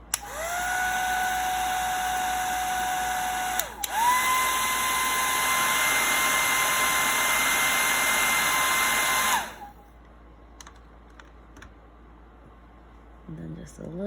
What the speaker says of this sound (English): So I'm just gonna blow it dry quick.